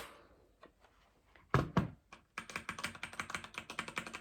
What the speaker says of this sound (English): now let's hear how the keyboard sounds